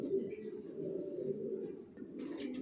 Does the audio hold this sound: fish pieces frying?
no